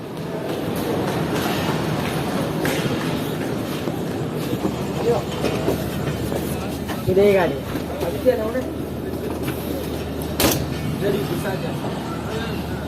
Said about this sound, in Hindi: तो दोस्तों जितनी देर में ट्रेन हैदराबाद रेलवे स्टेशन से आहिस्ता आहिस्ता निकल रही है